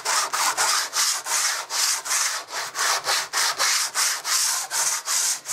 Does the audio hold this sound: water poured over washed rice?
no